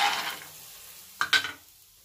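Peanuts frying in a pan over low heat as they are stirred, a soft sizzle fading out and then a couple of quick scraping stir strokes, close by with no voices.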